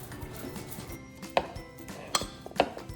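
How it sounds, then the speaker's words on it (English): Tuna being mixed for a tuna-egg filling, with soft low rustling and three sharp utensil knocks against the container, close by and spaced unevenly. "Mix the tuna."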